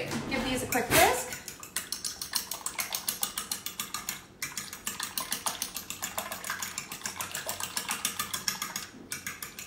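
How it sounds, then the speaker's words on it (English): Ingredients seasoned with kosher salt and a little water are whisked in a bowl, giving a fast, rhythmic metallic clatter that is close and fairly quiet. "All right, give these a quick whisk."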